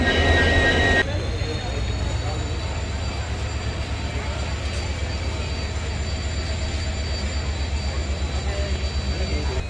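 A steady low diesel locomotive engine rumble of the Yesvantpur–Mangaluru Express drones throughout, loud and continuous, with a brief louder burst at the start.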